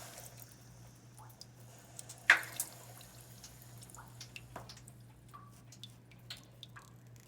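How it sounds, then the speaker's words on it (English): Water and sediment draining from a home water heater through a hose, heard as faint trickling with scattered drips and soft splashes, one sharper splash standing out early, over a steady low hum. "And this is where all the water is due to drain."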